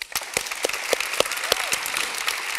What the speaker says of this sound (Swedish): vi ger en liten applåd för hans uttömmande svar